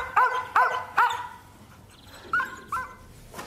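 Nearby, a dog gives three quick barks, pauses, then yips twice more and ends on a short, faint bark, with a quiet background and no talking.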